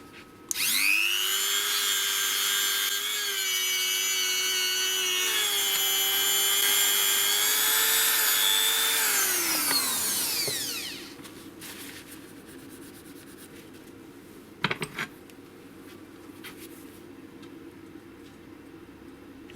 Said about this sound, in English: let's give the buffing wheel a go on here